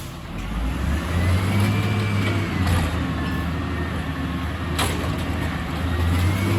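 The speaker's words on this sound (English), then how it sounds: "He revs it harder than like Caesar" A heavy garbage truck engine roars loudly and steadily close by, holding a hard, sustained rev for several seconds with no talking.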